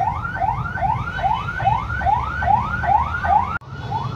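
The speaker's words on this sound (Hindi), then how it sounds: "ये ईदी वालों की एम्बुलेंस की आवाज़ें यहाँ से नहीं जाती" Ambulance sirens wail outside in a fast, repeating rising sweep of about eight cycles. The sound is loud and steady until a brief cut near the end, with no voices over it.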